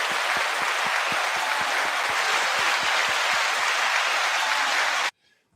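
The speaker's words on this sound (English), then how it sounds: "9 second applause to this fantastic panel" Steady, dense applause for a panel of guests, loud and unbroken with rhythmic low thumps underneath, stopping abruptly near the end.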